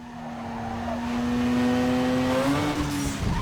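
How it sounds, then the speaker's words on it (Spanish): Car engine from a driving simulator video game revs with a rising tonal whine, shifting pitch near the end as it accelerates, loud and close with no voices. "Es el sonido el que verdaderamente le dice al jugador qué está haciendo su motor."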